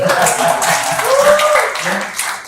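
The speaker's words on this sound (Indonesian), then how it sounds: "Beri tepuk tangan buat Tuhan" Congregation applauding during a church sermon in Indonesia, a steady wash of clapping from a large crowd that fills the whole stretch, with a few voices rising faintly through it.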